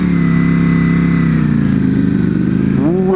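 A Lamborghini engine revs hard as it drives past, a loud, close, steady growl that swells and then shifts pitch near the end as the car goes by, heard alone.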